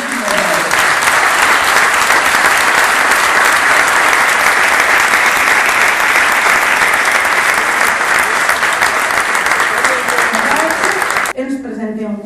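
Loud, dense applause from a crowd at a 2011 PSOE electoral list presentation rally in Benigànim fills the space steadily for about eleven seconds, then cuts off as a speaker begins talking.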